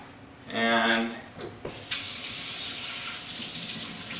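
Tap water runs into a kitchen sink during hand washing after baking, with a short burst of flow, a brief pause, then a steady, fairly close hiss of running water continuing to the end.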